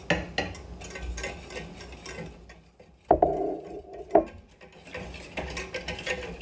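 Blue corn flour and juniper mix being stirred into water in a pot: irregular close scraping and clacking of a utensil, with a couple of sharper knocks, and no voices.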